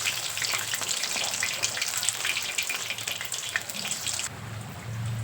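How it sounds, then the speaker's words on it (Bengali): Water lily flower pakoras fry in oil as they are turned over, producing a dense, continuous crackling sizzle at close range that eases off near the end, with no voices. "এইভাবে উল্টে পাল্টে লাল করে পকোড়াগুলো ভেজে নেবো"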